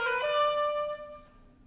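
A solo oboe plays a short practice fragment, a few quick notes of a turn figure ending on a held downbeat tone that fades out, close and clear with no speech.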